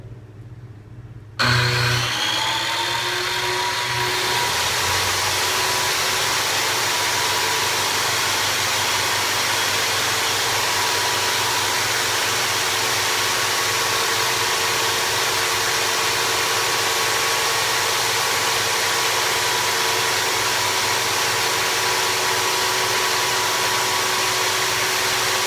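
A 6000 watt 120/240 volt 50 amp solar generator starts up after a short quiet moment, then runs loudly and steadily with a constant hum and whine that carries on without a break.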